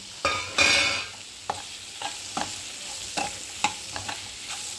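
Mushrooms and masala fry in a pan for mushroom biryani under a soft sizzle, with a spoon clacking and scraping against the pan in sharp, irregular strokes.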